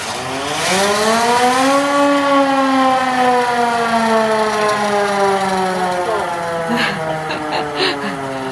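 A 1920s hand-crank siren is spun up into a loud, rising wail. Its pitch swells, holds, then slowly winds down, close and alone, with no voices.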